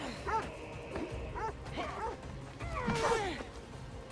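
Inside the video game Assassin's Creed Odyssey, a dog gives a run of short yelps, whimpers and barks in uneven bursts against a muffled background of game noise.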